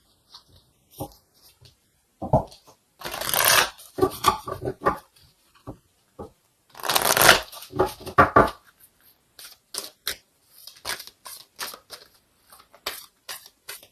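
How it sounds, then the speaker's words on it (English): Oracle cards for a tarot reading are shuffled by hand, two loud rippling riffle bursts followed by scattered soft taps and slides of the deck, close and with no speech. "let's go ahead and get an oracle card here to confirm this"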